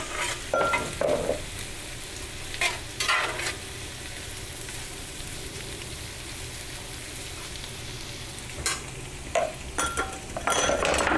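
Parboiled baby red potatoes with skins on go into a pan of frying translucent onions, giving a steady close sizzle with bursts of stirring and clinks of a utensil against the pan.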